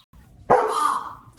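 A dog gives a single sharp, loud bark up close, with a short tail trailing off afterward in a quiet room.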